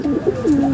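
A pair of Pakistani golden pigeons coos up close, with soft low throaty calls that rise and fall in a short, clear phrase.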